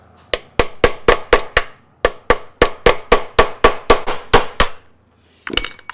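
Sharp metallic hammer strikes driving a punch into a stuck screw head on an aluminum storefront, in a steady rapid series, about fifteen blows in two bursts with a brief pause, loud and close, followed by a clatter.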